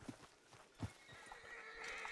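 Hoofbeats clip-clop from a horse in the Red Dead Redemption 2 game world, with a neigh and whinny rising over the steady footfalls; the sound is fairly quiet and carries no talk.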